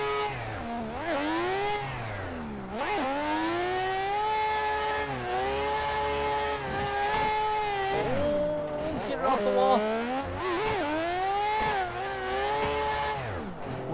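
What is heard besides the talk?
Mazda RX8 race car driving in Assetto Corsa video game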